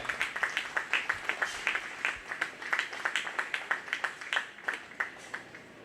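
A county fair swine-show crowd claps for the 4-H and FFA winners, a thin, moderately faint round of distinct hand claps in a quick uneven rhythm for several seconds.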